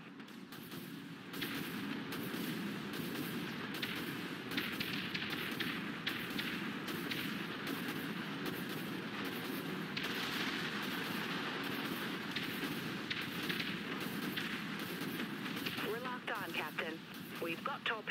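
Spaceship weapons in Dreadnought fire as a steady run of rapid, rhythmic blasts over a continuous engine drone, with a voice speaking partway through.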